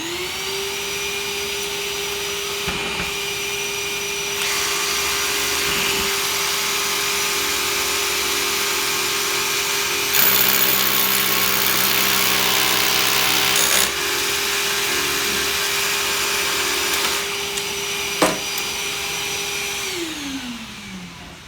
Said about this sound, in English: Got the vacuum will turn on.